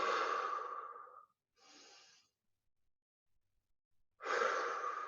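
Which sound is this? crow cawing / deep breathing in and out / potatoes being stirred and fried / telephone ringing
deep breathing in and out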